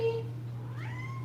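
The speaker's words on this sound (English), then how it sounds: "This is my cat. Mimi." Mimi, a pet cat, gives a soft meow with a rising then falling pitch, faint beneath a steady low electrical hum, while a person talks nearby.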